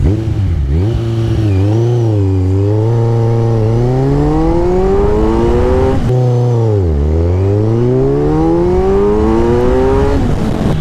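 Kawasaki Z1000 motorcycle with a 140 hp engine accelerating hard in second gear, a loud close engine note that climbs steadily, drops at a shift, then climbs again.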